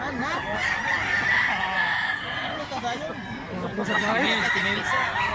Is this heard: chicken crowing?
yes